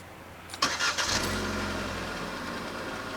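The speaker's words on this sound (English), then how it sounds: "when you start the car" A 2016 Vauxhall Corsa with an automatic Tiptronic gearbox starts up close by: a brief starter whir and catch, a short rev, then a steady, quiet idle.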